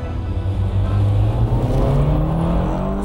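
A Honda S2000 prototype accelerates on the old Nurburgring course in Germany, its engine note climbing steadily through the revs, loud and close from inside the car.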